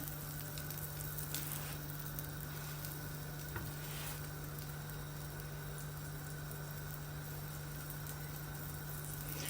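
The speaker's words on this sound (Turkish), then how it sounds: "gözlemelerimiz foşur foşur pişmeye başladı" Gözleme flatbread, brushed lightly with oil, fries in a pan with a steady, close sizzle that stays even throughout, a low electrical hum running beneath it.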